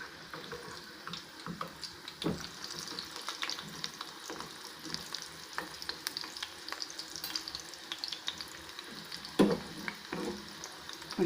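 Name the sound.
sweetcorn pakoda frying in oil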